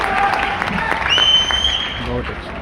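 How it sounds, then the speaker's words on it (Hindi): Crowd at an outdoor festival poetry recital clapping after a poet's performance, a loud steady patter with whistle-like tones above it and a voice entering toward the end. "मुझे पूरा सिद्धार्थ नगर आशीर्वाद की तालियां दीजिए"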